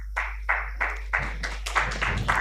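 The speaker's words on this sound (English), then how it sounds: "Please welcome them with a huge round of applause" Applause from a conference audience welcoming panel speakers onstage at a precision medicine conclave: a sparse, rhythmic run of fairly close claps, about eight regular beats, thickening slightly toward the end.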